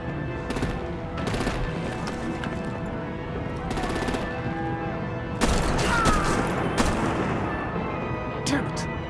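Gunfire and artillery blasts in a Batman Telltale Series game battle scene: sustained bursts of shots and heavy booms over a dense rumbling background, with voices talking throughout.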